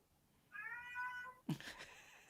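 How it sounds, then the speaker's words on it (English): A cat lets out one drawn-out, clear meow, followed by a rougher, noisier second call, faint and somewhat distant over a quiet background with no talking. "Where's the cat? Show us the cat, man."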